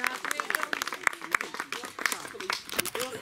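Audience at a Latvian storytelling festival applauding a scientist, scattered sharp claps mixed with crowd noise while someone speaks over the top.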